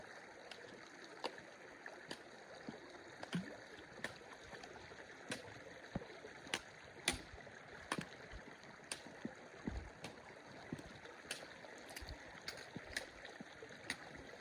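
A mountain creek in Banff National Park washing around a rock mid-stream, a close, steady rush of water with scattered sharp ticks and knocks over it, no talk.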